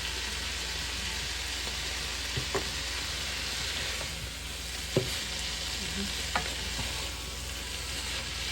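Cabbage for Jamaican steamed cabbage fries in a pan, seasoned with garlic and onion powder, under a steady close hiss of sizzling with occasional soft knocks and scrapes as it is stirred.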